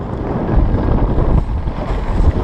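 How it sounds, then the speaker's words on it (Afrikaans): Strong, gusting wind roars across the microphone on a fishing boat during a competition round, a loud continuous rumble with no talking. "Ja, die wind het al klaar begin rof word."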